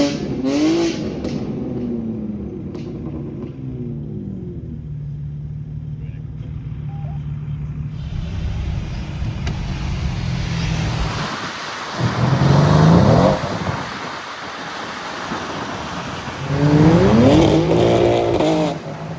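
A BMW M5 revs hard and accelerates at a Wörthersee car gathering, with loud surging engine bursts rising over crowd chatter and other idling cars, people talking nearby throughout.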